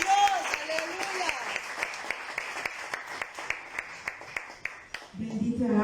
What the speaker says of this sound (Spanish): Denle fuertes palmas al Señor.